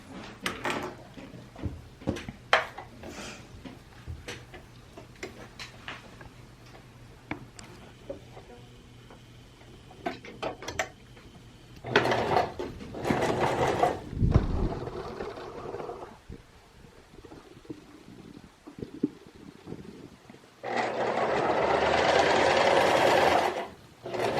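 A sewing machine stitches fabric for a homemade face mask, running in a few separate bursts with quiet handling sounds and pauses between them, the last run loud and close.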